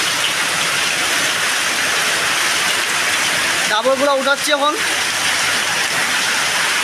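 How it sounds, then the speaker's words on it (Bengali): Heavy rain pours down steadily, a loud dense wash of falling water close by that runs throughout, with a person speaking briefly over it midway. "এই চরম বৃষ্টি হচ্ছে, চরম বৃষ্টি, আকাশ খুবই খারাপ আছে আকাশ।"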